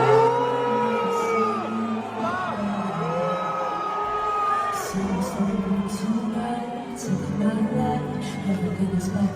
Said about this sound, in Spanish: el público de pronto se lanzó a abuchearla